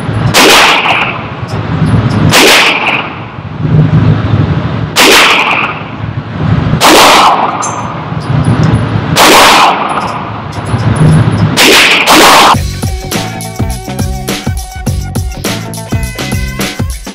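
A CZ 75 P01 Omega pistol firing 115 grain Federal target ammunition on an outdoor range, with six loud, sharp gunshots spaced about two seconds apart, each followed by a brief echo, then a clattering, rattling tail.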